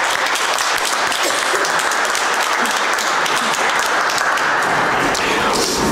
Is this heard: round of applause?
yes